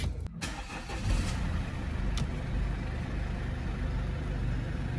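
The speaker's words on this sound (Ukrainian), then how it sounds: "І зараз покажу, як працює двигун." A Mercedes W204 with the 651 diesel engine runs at a steady idle, a constant low rumble heard close up with a brief click near the start.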